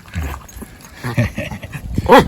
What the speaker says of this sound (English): And these are local dogs.